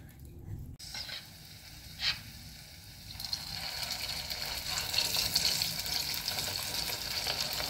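Cleaned vegetables being rinsed under running water in a home kitchen, a steady splashing hiss that swells and grows fuller midway, with a couple of brief clatters near the start.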